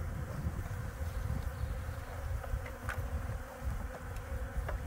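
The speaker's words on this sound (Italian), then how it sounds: "ci permette di raccogliere le nostre api nell'alveare" Honeybees in an open beehive make a dense, steady buzzing swarm, a continuous drone that fills the whole stretch with a few individual bees flying close past the microphone.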